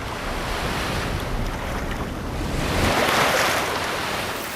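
Strong wind blowing off a shark-inhabited lagoon, a steady broad roar of gusts and surf-like rushing that swells louder around the middle, with no voices.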